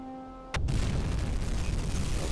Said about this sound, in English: We got a good hit there with a torpedo.